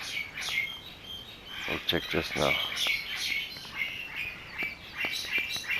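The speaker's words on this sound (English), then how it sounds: "Sorry for the birds in the background." Small birds chirping and tweeting repeatedly nearby, bright short calls with a quick trill in the middle, under a man's speech.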